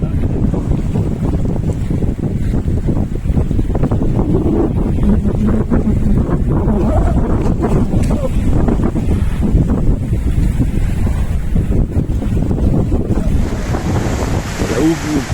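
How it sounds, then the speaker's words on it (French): Sailboat on an ocean crossing from the Canaries to Senegal in a strong swell, with waves striking the bow over a constant heavy roar of wind and water, loud and close, with repeated surges and thumps and no talk. "La houle pousse tellement fort qu'elle arrive, les vagues arrivent à la proue."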